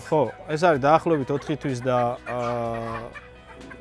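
French broiler chickens on a farm in Kobuleti village, including a big rooster about four months old. Their fowl calls sound under someone talking close by.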